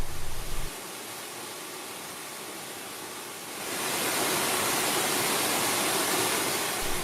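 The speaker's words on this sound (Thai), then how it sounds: "จากที่สูงลาดลงสู่ที่ต่ำเป็นน้ำตกทอทิพ สูง 9 ชั้น" Thotip waterfall in Kaeng Krachan National Park, a nine-tiered cascade over rock channels, roars as a steady broadband rush of falling water that swells louder partway through and holds, with no voices.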